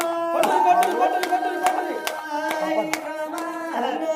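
Steady rhythmic hand claps ring out at an Oggu Katha folk storytelling performance in Telangana, landing about twice a second over sustained sung or instrumental tones, close and moderately loud.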